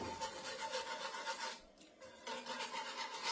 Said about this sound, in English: give it a nice whisk